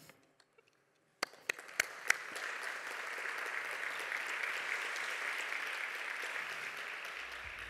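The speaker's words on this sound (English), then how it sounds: "You can clap if you want." After a few isolated claps, a conference audience breaks into soft, fairly distant applause at a talk on preload strategies with WKWebView, building within a second and holding steady to the end.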